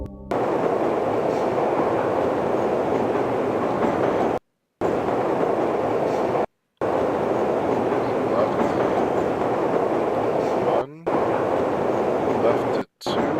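A maintenance transport tunnel vehicle in the video game Journeyman Project Pegasus Prime, a steady, loud rumbling ride cut by a few abrupt silent gaps, with no talking.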